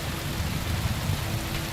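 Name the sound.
rain in video game Kingdom Come Deliverance II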